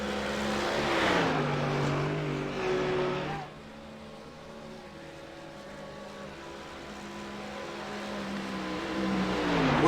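A Mercedes GT3 race car at the Nürburgring exits onto a long straight under acceleration, its engine a sustained, harmonically rich roar at moderate distance that dips briefly and then swells again.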